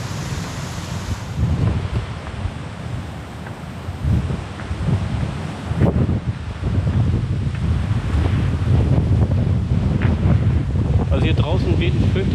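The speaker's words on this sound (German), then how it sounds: "Also hier draußen weht ein fürchterlicher Wind." Strong, gusty wind roars outdoors on a bikepacking trip before a heavy storm, buffeting the microphone in continuous rumbling waves that swell and ease over twelve seconds, with no clear speech.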